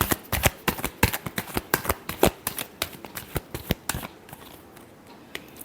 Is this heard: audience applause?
no